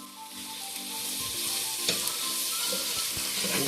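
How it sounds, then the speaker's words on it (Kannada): Vermicelli for shavige upma fries in hot oil with turmeric and salt, crackling in a loud, constant sizzle punctuated by a few stirring scrapes close by. "ಶಾವಿಗೆ ಉಪ್ಪಿಟ್ಟು ಚೆನ್ನಾಗಿ ಫ್ರೈ ಮಾಡ್ಕೋಬೇಕು."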